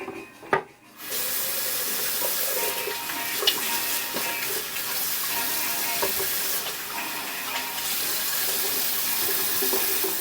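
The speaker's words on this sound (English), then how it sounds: "So, wash my hands, we'll be right back." Steady running tap water with hand washing fills the whole stretch after a brief knock at the start, a continuous close hiss with small splashes and shifts as hands move under the stream.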